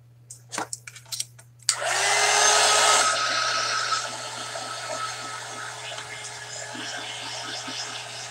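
After a few handling clatters, a hair dryer switches on and blows loudly and steadily, drying ink and gesso on a Christmas ball ornament, its whir easing slightly in pitch partway through.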